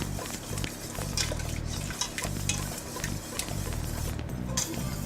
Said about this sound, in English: Another cup of milk, and we'll whisk it in again